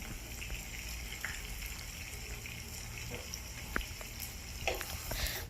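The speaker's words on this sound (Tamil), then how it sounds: "இது எல்லாமே நல்லா பொரிஞ்சதுக்கப்புறமா நம்ம நறுக்கி வச்சுருக்க அனியன்ஸ் ஆட் பண்ணிக்கோங்க" Chopped onions frying with spices in hot oil for a prawn masala curry, giving a steady, moderate sizzle throughout with a few light clicks and spatters, and no talking.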